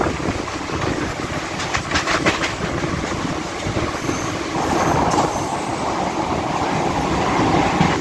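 A Howrah-Barddhaman chord line superfast local train rumbles steadily along the tracks near Janai Road with rhythmic clattering, loud and continuous throughout, the running noise swelling slightly toward the end.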